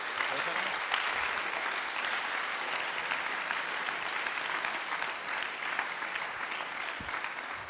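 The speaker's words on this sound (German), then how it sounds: "ich sage jetzt mal bitte den ersten Applaus für die neuen Fraktionen der Grünen" Sustained audience applause at a Green Party state conference in Siegburg, dense and steady throughout from a large hall crowd, with no pauses.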